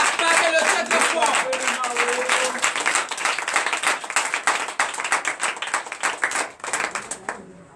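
A church congregation at a Sunday service claps and cheers in dense, continuous applause, with voices and shouts mixed in, staying loud before thinning into more scattered claps toward the end.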